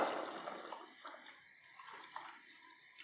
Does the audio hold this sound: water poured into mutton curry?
yes